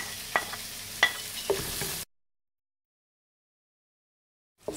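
Onions sizzle in a pan with ginger and green chili while being stirred, a soft frying hiss punctuated by a few clinks and scrapes, followed by a sudden cut to silence.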